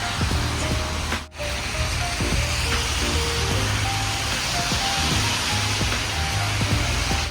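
Heavy rain pours down in central Sydney near Hyde Park as a dense, steady hiss of falling water, loud and continuous throughout.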